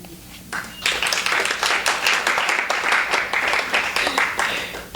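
Audience applause breaks out after a poem at a live poetry reading, steady dense clapping from a room full of listeners that swells in and holds for several seconds.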